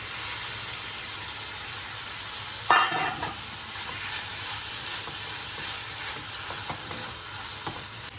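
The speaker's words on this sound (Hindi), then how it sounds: "I'm going to add it to the onion and let it cook" Chicken cubes sizzling with onion in a pan, a steady close frying hiss with occasional stirring scrapes and a louder burst partway through.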